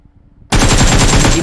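Loud, sustained automatic gunfire from PUBG Mobile bursts in abruptly after a half-second of near silence, a dense rapid stream of shots that continues to the end.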